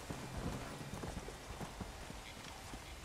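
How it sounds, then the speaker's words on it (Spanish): A zombie horse in Red Dead Redemption: Undead Nightmare clops along with steady hoofbeats over a dense, rain-like noisy backdrop, moderately faint and continuous. "Un caballo zombie, ¿vieron?"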